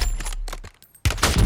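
Gunfire in the Warzone video game, a loud burst of several rapid shots, a brief pause, then another loud volley close by.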